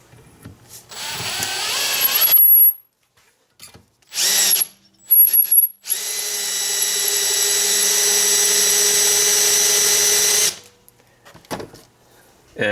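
Power drill spinning a deburring tool against the cut end of a threaded rod: a short whirring burst, brief blips, then a long steady high-pitched whine of about five seconds, loud and close.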